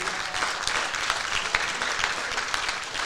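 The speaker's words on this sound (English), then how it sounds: "Big round of applause for this group" A crowd applauds the JV team, runner-up district champions, at a school fall sports awards ceremony, a dense steady clapping at moderate level with no talk over it.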